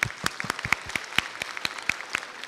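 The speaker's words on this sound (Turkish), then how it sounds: "ben sizleri alkışlıyorum" A modest audience at a talk during municipal book days claps in scattered, uneven applause, fairly close and moderately loud.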